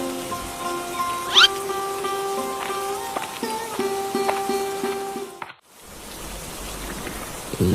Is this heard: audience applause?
no